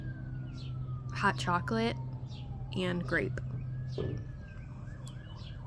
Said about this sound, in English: And there's sirens.